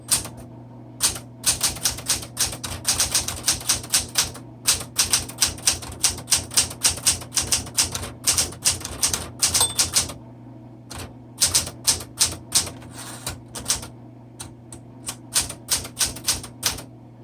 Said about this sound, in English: Very, very nice typewriter.